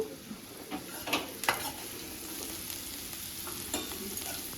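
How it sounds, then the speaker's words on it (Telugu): Ingredients for ivy gourd chutney fry in a pan with a steady, soft sizzle, while a few light stirring scrapes and clinks sound near the start, close and quiet with no talk. "అలా వేయించుకుందాం ఇప్పుడు"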